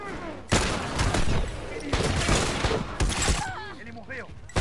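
Rapid bursts of gunfire from The Last of Us, loud and dense, in several sustained volleys across the clip with brief gaps, a voice speaking between shots.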